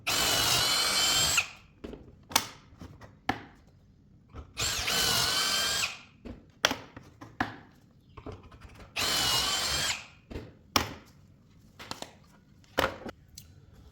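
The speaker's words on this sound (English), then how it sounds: "before we actually start drilling holes into our good pieces of wood, I'm going to take a couple scrap pieces from the plywood" Power drill boring pocket holes into scrap 3/4-inch plywood with a Kreg jig: three long, loud whirring bursts separated by gaps filled with sharp knocks, clatter and handling of the wood, with no talking.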